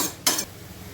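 A single brief scrape of a utensil stirring fenugreek bhaji in a pan, one short burst over a faint background hiss.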